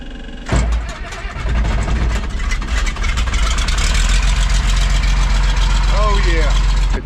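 An old tractor engine turns over and catches, then settles into a loud, steady, chugging idle close by, with a person speaking over it.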